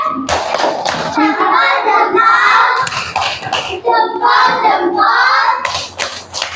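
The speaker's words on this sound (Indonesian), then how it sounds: "Tepuk salut." A classroom of students performs the 'tepuk salut' clapping cheer, voices chanting together in a patterned rhythm broken up by bursts of hand claps and thumps.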